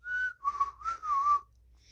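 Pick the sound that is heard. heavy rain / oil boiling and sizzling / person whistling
person whistling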